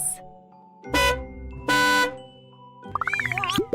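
A bus horn honks twice in long, loud, steady blasts, followed by a burst of warbling, siren-like electronic tones over light music.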